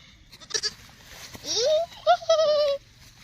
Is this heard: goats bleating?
yes